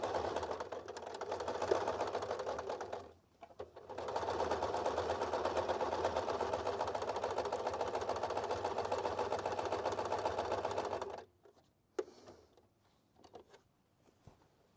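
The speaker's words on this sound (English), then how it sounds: "Now I'm just working on doing some stitching." A sewing machine runs steadily for about three seconds, pauses briefly, then hums on continuously for around seven more seconds while stitching appliqué onto upcycled barrel-leg jeans, and ends with a few faint handling clicks.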